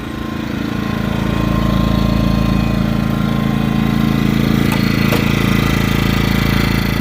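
A small engine fitted with a spark arrestor runs steadily at close range, its exhaust putting out a loud, even, rapid putter that holds without change.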